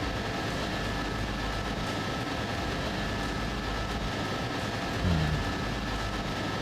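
A passenger train pulling away in the SimRail simulator, a steady loud broadband rumble of engine and running gear, continuous throughout with a brief low knock near the end and no talk.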